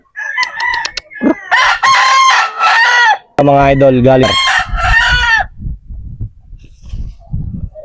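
A green-legged Raptor sweater gamefowl rooster crows loudly and close, several long harmonic calls in quick succession, with a voice speaking briefly between them and clucking sounds trailing off.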